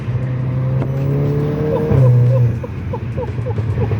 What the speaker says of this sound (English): I love the exhaust tips. They do also have a nice fruitier sound